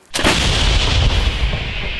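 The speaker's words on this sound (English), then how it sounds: "This is the artillery unit who are working with the M777s." M777 howitzer artillery fires once up close with a 45th Brigade artillery unit near Bakhmut, Ukraine, a sudden loud boom that rolls into a long, sustained rumbling echo.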